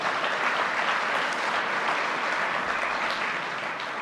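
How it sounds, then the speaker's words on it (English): A room full of people at an annual general meeting applauds steadily, a dense patter of clapping that holds at the same level throughout. "Please give them a round of applause."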